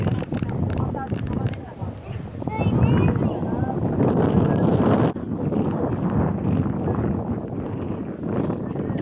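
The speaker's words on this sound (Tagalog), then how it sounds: "Lakas ng hangin" Gusty wind on Mt. Brigino buffets the microphone with heavy rumbling while people talk over it outdoors.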